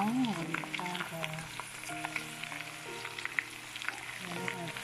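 Onions frying with veal sausages in a pan, a steady moderate sizzle with scattered pops and crackles, with some tonal background sound running underneath.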